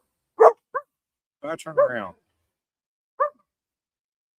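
A dog barks outdoors near a cooking spot, giving a handful of short, separate barks and yips spread over a few seconds, with someone speaking briefly between them.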